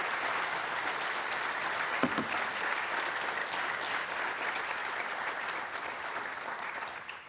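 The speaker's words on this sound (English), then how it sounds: "I hope tonight that you will send them off with a rounding applause for sharing some of their stories with us today." Sustained, dense applause fills a seminar hall as the audience claps for storytelling speakers, steady and close throughout, with a faint voice briefly surfacing partway through.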